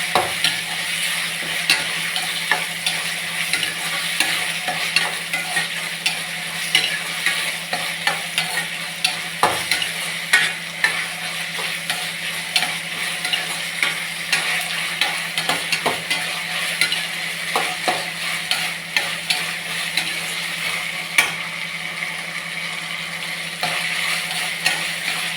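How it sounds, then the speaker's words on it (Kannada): Chopped tomatoes and vegetables frying in a hot pan, a continuous sizzle punctuated by frequent scrapes and knocks of a spoon stirring against the pan, steady and close with no talking. "ಟೊಮೊಟೊ ಹಾಕ್ಕೊಂಡು ಟೊಮೊಟೊ ಸ್ವಲ್ಪ ಚೆನ್ನಾಗಿ ಫ್ರೈ ಆಗಬೇಕು"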